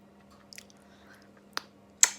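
Someone eating a freshly baked pie, a few soft, wet chewing and biting sounds close up, spaced out over quiet with a faint steady hum underneath.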